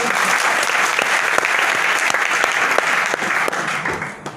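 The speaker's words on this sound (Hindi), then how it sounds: "चलो नए के लिए एक बार जोरदार तालियां।" Loud, dense applause from an audience at a company event, a continuous roar of many hands clapping close by that holds steady and then tapers off at the end.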